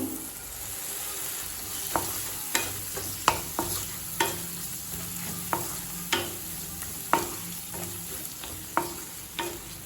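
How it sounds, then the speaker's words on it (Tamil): Tomato cooking in oil for a cauliflower and pea kurma, a constant sizzle under a steady run of sharp spatula taps and scrapes against the pan, roughly one every second. "தக்காளி சேர்த்துட்டு நல்லா வதக்கியாச்சுங்க."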